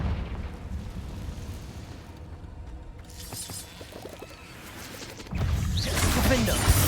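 Blasts from the Confringo fire spell in Hogwarts Legacy: a mixed game soundscape of rumbling bursts and crackles, building to a loud, dense eruption near the end, with talk mixed in.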